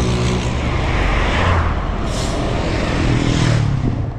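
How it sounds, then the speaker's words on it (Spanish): Heavy road traffic rushes past on a highway: motorcycles, cars, trailers and trucks give a loud, continuous roar with a swelling whoosh midway and another toward the end, recorded close to the roadside. "pasan motos, carros, trailers, camiones, de todo"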